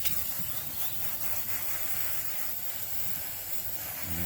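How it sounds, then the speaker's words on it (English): Steady, close hiss of degreaser sprayed onto a dirty intake hose from a 36-year-old lawn mower, running unbroken and fairly loud without pause. "We're spraying some degreaser on it."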